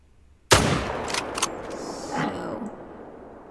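A single hunting rifle shot in the hunting video game Call of the Wild cracks loud and close after a quiet moment, then rolls away in a long fading echo across open coastal land.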